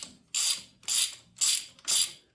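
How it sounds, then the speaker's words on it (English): A ratchet wrench loosening a car battery bolt gives four evenly spaced bursts of rapid metallic clicking, close and crisp, with brief quiet gaps between strokes. "Little ratchet ASMR for you."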